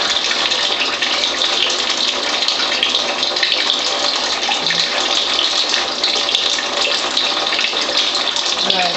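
A water ionizer streams alkaline and acidic water from its spout and bottom hose into cups, giving a loud, steady gushing flow that runs without a break.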